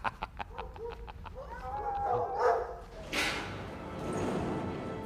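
Dogs bark in a quick run of sharp yaps, then a jumble of animal calls and clucking follows, fairly near and moderately loud without talk.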